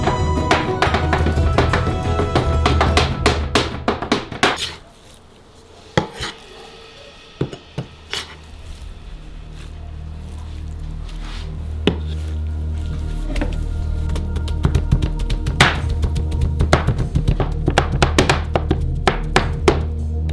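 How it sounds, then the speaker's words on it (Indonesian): Two cleavers chop meat on a wooden board in rapid, repeated thuds and knocks, a near, loud hacking rhythm that pauses briefly before resuming steadily. "Dengan menggunakan 2 kapak, buatlah daging cincang ini."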